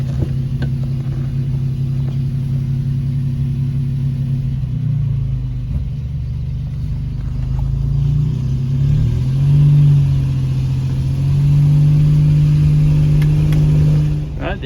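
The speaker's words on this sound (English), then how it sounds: "the engine's a little bit warmer now, idling a little bit fast" A car engine idles a bit fast after warming up, a steady low rumbling drone that holds nearly constant and swells slightly toward the end, with no talking.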